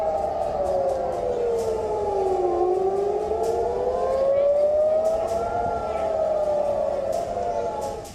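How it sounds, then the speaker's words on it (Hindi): An air-raid siren wails in Israel after a rocket attack, its tone slowly rising and falling in long sweeps, loud and steady with faint background noise. "हमले के ठीक बाद इजराइल में युद्ध का सायरन बजने लगा।"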